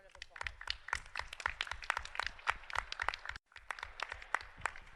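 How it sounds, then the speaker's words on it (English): Applause from those gathered at a St. Paul city council meeting, a steady run of handclaps that briefly breaks off and then resumes, with some voices mixed in. "And I would like to give you a round of applause."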